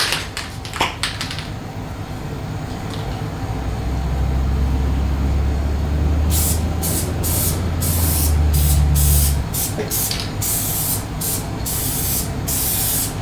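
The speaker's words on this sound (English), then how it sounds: "glue the seat foam to the pan" Spray adhesive hisses from an aerosol can as seat foam is glued to a mini bike seat pan, coming in several short, loud bursts after a quiet stretch, with a low hum and rustling underneath.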